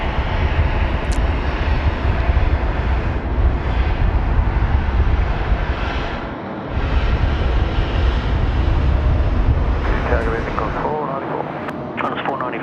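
Jet airliners at Sydney Airport at night, a Qatar Airways and an Emirates aircraft among them, give off a loud, steady engine roar that fills the whole stretch, with a brief dip in the middle and someone talking over the end.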